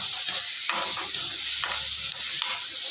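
Chopped onions sizzle in hot oil for an egg curry, being stirred until they change colour: a steady, fairly quiet hiss with occasional soft scrapes of a spoon, no voices.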